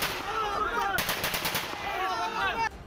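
Rifles fired into the air by a group of militants outside a house in Kashmir: a rapid burst of repeated gunshots around the middle, with broadband crackle and ambient noise throughout.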